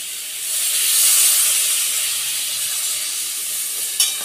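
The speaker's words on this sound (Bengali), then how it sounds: "এবার আমি জল দিয়ে দেবো।" Water poured into a hot pan of frying chara pona fish curry with green banana and potato sets off a loud, continuous steam hiss that stays close and steady, with no talking.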